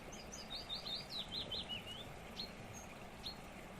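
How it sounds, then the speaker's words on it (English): Quick, bright bird song trills and chirps in a rapid run, then a couple of isolated notes, over a soft, continuous background of flowing water. "bird song"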